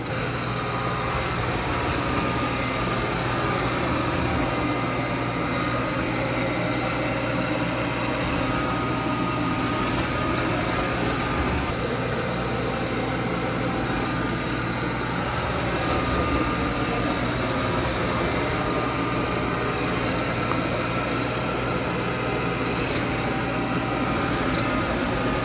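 Roomba 105 combo robot vacuum and mop working through its second pass, giving off a steady, unbroken whirring drone of fan and brushes that holds at an even level the whole time.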